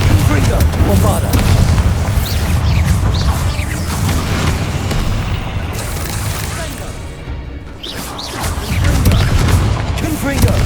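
Bombarda and Confringo spell blasts in the Hogwarts Legacy video game, a dense barrage of loud booms and crashes layered over constant battle noise, nearly unbroken across the stretch with a brief lull before the roar returns.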